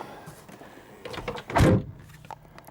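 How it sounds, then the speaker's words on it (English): A 1985 Ferrari Mondial QV car door swinging shut, a single solid close-range thunk after some faint handling sounds, with no talk. "I'm just going to close the door now."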